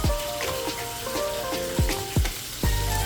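Lamb shank fat renders in a hot pan with a close, crackling sizzle, broken by several sharp pops and spits at irregular intervals.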